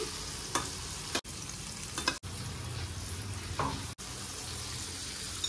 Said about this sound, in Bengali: জলটা দিয়ে দিচ্ছি